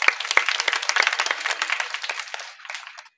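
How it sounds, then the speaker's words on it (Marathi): An audience at a kirtan gathering breaks into loud, dense clapping for the Indian women's cricket team, a burst of applause that thins out and fades over about three seconds. "एकदा भारतीय क्रिकेट संघातल्या महिलांकरता सगळ्यांनी जोरात टाळी वाजवा"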